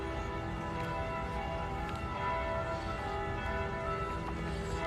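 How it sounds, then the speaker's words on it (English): Church bells ring on a morning in Savannah, a dense wash of overlapping, sustained tones that fills the scene steadily and fairly loudly, with no talking. "The bells begin at 8:30."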